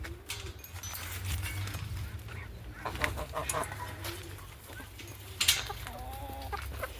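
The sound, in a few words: birds crying out constantly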